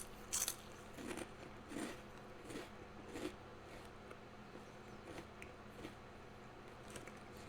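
Close, crisp crunching as Doritos Dinamita Sticks are bitten and chewed, in irregular bursts over a steady background hiss with no talking.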